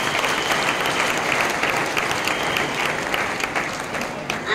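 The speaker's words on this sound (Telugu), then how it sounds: "వాళ్ళందరి కోసం ఒక్కసారి నా తరఫున గట్టిగా క్లాప్స్" A large crowd claps loudly and continuously, a dense, even roar of applause that holds steady throughout and tapers slightly near the end.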